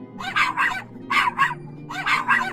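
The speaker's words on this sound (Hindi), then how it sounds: "भौंक क्यों रहा है तू?" A dog barks in quick pairs, three double woofs spaced about a second apart, close and fairly loud, with a low steady hum underneath and no talking.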